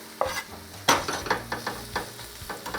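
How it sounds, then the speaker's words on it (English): Mushrooms sizzle in hot olive oil in a frying pan, with repeated scraping stirs of a utensil against the pan sounding in a loose rhythm, close and alone. "The pan is hot now. I'm going to throw in the olive oil. In goes the mushrooms."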